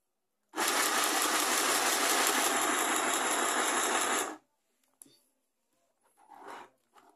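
A mini sewing machine stitches knit fabric in one continuous loud, buzzing run of about four seconds, close up, followed by faint handling clicks and a brief soft voice.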